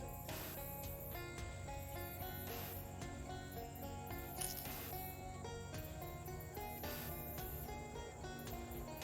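Dense chorus of frog calls close by in a video game swamp near Moss Rock, a steady layered croaking and chirping throughout with no talk.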